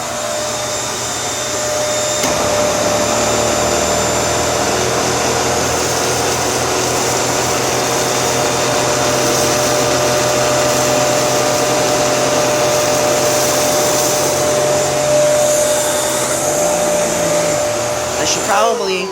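A Panasonic or Kenmore vacuum cleaner with an independent motor runs continuously with a loud, steady whine and roar throughout, close up, with a slight shift near the end and no talk.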